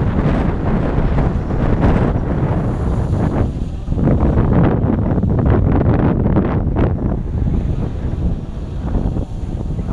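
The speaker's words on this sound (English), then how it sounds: "definitely pushing into that wind" Strong wind roars and buffets the microphone continuously, a loud rushing noise with gusty surges and no voices.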